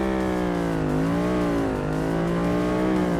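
A Ford Mustang accelerates hard in a 0-100 run, its loud, close engine note climbing in pitch with two short dips at gear changes.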